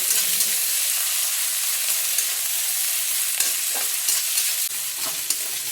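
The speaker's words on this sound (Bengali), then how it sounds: "আদা রসুন পেঁয়াজটা ভাজা ভাজা কষা হয়ে গেছে" Onion and ginger-garlic paste sauté in a pan on low gas, giving a continuous close sizzle with intermittent scraping and stirring clatter throughout.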